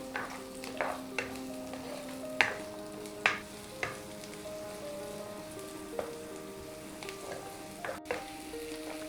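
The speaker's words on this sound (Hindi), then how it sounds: "तेल गर्म हो गया है, अब हम इसमें प्याज डाल लेते हैं और इसे चला लेते हैं।" Onions sizzle steadily in hot oil for kadai paneer while a utensil stirs them, its scrapes and clinks landing every second or so over the crackling.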